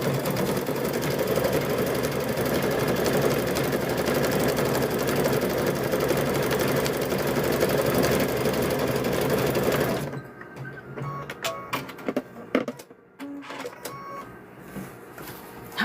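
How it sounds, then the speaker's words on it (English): A sewing machine stitching a rope bowl runs in a fast, steady, close mechanical whir for about ten seconds, then stops, leaving faint scattered clicks and handling noises. "I'll sew this to the end"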